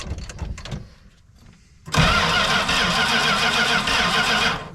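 An old RV that sat unused for about 20 years cranks with a few rough starter bursts, pauses, then its engine catches and roars into a loud, steady run nearby.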